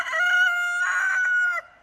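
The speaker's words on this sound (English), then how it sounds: "That's Pumpkin the rooster." A rooster crows once, a loud, close cock-a-doodle-doo lasting under two seconds, clear and alone before cutting off.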